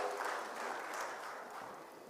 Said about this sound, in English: And a round of applause for Mr. Bimal Patwari